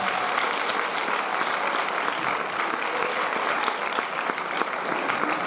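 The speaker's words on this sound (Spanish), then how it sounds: "pues hasta aquí le damos un fuerte aplauso de nuevo" Sustained, energetic applause from a lecture audience after a talk on space and the future by a NASA speaker, a dense and even wash of clapping with no speech over it.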